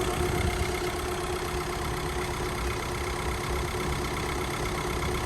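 Remapped Audi A1 1.6 TDI diesel engine idling steadily up close, a continuous low rumble with a faint clattering texture, no talk over it.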